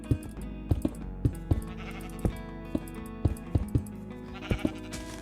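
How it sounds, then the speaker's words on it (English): Sheep bleating repeatedly in Minecraft in short, sharp calls at an irregular pace, clear and close, over a steady background hum. "This is a pink sheep"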